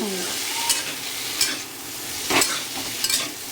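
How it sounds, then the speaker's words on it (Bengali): Potatoes frying with panch phoron, turmeric and cumin powder, an even sizzle with four or five distinct scraping stirs of a spatula spaced across the pan, nearby, without voices. "আলুর মধ্যে পাঁচফোড়ন দিয়েছি, একটু হলুদ গুঁড়ো আর জিরে গুঁড়ো"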